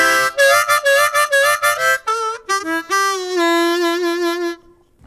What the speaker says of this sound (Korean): 그리고 마린밴드 디럭스 모델인데, 이 모델은 기본 클래식 모델에 비해서 커버 플레이트가 좀 넓어져서 소리가 좀 커졌고요.